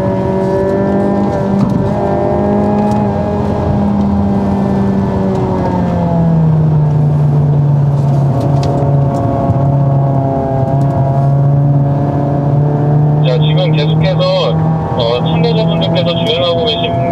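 Hyundai Avante N cars lapping Inje race circuit, a loud steady engine drone with harmonic tones dropping and rising as the cars shift speed. An instructor talks throughout over the engines.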